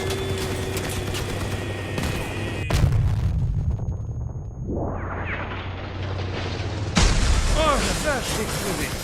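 A vehicle explosion in the combat game Crossout lands as a loud boom over steady engine rumble, followed by a rising whine and another heavy burst, with people talking over the action.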